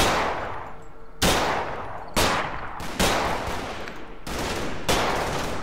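Gunfire in the video game Combat Mission Market Garden: five heavy, sharp bursts spaced roughly a second apart, each with a long decaying echo, loud and close with no talk.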